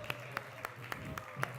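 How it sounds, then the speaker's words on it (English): Faint, evenly spaced claps from a small audience at a Krishna Katha gathering in a temple hall, a handful of sharp hand strikes repeating in a steady rhythm. "So let's have a big hand of applause for them."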